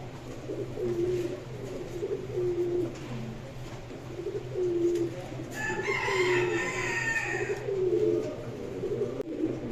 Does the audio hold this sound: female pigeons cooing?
yes